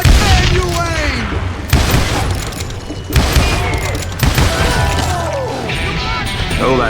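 Gunfire and dynamite blasts in the Western shooter Call of Juarez Gunslinger, with loud repeated booms and shots at about 1.7, 3.1 and 4.2 seconds over dense game noise, with talk mixed in.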